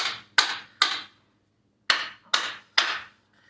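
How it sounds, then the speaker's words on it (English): A hammer strikes the steel ring of a BMW front lower control arm bushing in two bursts of three sharp, ringing metallic blows, close and loud with a brief gap between groups. "you're trying to hit this steel ring up here to actually move the bushing"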